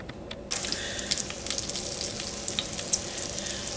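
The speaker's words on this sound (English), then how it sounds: "I'm throwing in some bacon fat" Bacon fat hitting a hot pan while cooking Swiss steak bursts into a loud, steady sizzle, dense crackling with scattered sharp pops over a few seconds, no voices.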